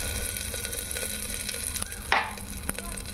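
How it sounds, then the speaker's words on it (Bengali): Dried red chillies frying in hot oil in a pan, a dense continuous sizzle with crackles and one sharp burst of spitting, close and loud, with no talk. "শুকনো লঙ্কাটা ভালো করে পুড়ে গেলে"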